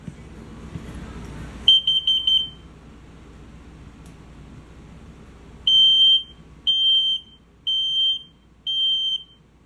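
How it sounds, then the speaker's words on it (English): A carbon monoxide and LP gas detector in a 2023 Cruiser RV Stryker STG3313 toy hauler, on test, chirps a shrill, piercing quick triple burst, then after a pause sounds four loud, evenly spaced beeps. "carbon monoxide and LP detector"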